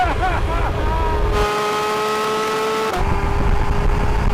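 A Porsche 911 GT3 RS revs hard through its gears on a drag strip, a loud rising engine note with distinct upshifts, close and continuous.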